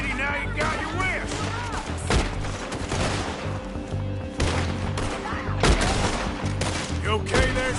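Gunfire in the video game Red Dead Redemption 2: dense, continuous volleys of shots and thuds fill the whole stretch, with voices shouting through the shooting.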